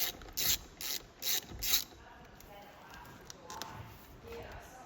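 A ratchet clicks in four quick bursts while loosening the main steering wheel bolt of a 1999 Cobra with a 50mm Torx bit, close and crisp, followed by quieter workshop handling.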